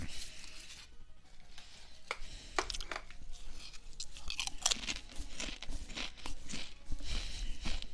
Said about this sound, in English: Is it chewing really annoying?